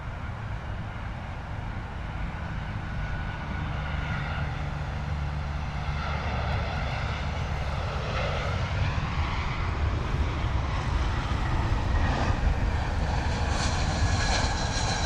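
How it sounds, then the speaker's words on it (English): A British Airways A320 airliner arriving to land at London Heathrow, a broad engine roar that swells gradually over several seconds, rumbling and whooshing as it passes fairly near, with no talk. "British Airways A320 coming in from Milan."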